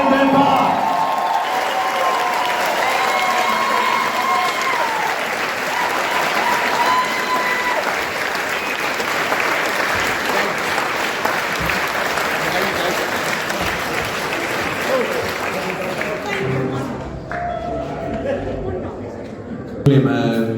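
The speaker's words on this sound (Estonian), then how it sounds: "Inimesed, ma tahaks näha nüüd teie käsi ja suurt aplausi." A live concert audience at Viinistu gives a long, dense burst of applause and cheering lasting around sixteen seconds, with a voice over the start, then thinning out as talking resumes.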